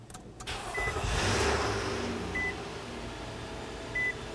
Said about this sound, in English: So let's turn on the engine and let it run.